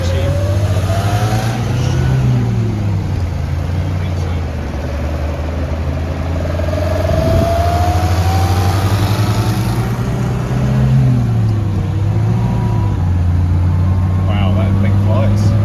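A car engine revs and accelerates on a road trip in an old Peugeot 404, heard as a loud, steady drone that rises in pitch several times, with people talking over it.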